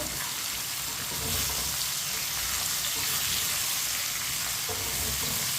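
Chopped okra frying in a pan on the stove for chicken bhindi, a steady hissing sizzle with faint stirring scrapes, continuous and close.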